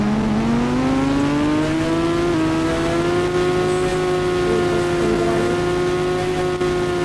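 A Super Splendor motorbike engine in a 3D bike video game drones loud and steady, its pitch climbing slowly as it accelerates and then holding at a sustained high whine throughout.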